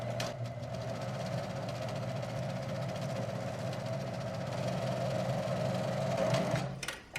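A home sewing machine running steadily while stitching a hem, giving a continuous close mechanical hum and whir that stops near the end.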